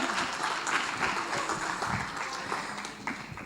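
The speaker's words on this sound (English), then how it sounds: "Let's have a round of applause for her." Audience applause at a youth summit as a woman is invited up on stage: a moderate crowd clapping in a hall, steady and somewhat distant, easing slightly toward the end, with faint voices underneath.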